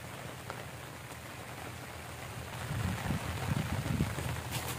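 Heavy thunderstorm rain hisses steadily over a paddy-field fishing spot while anglers fish for climbing perch, growing denser and louder in the second half, with no voices.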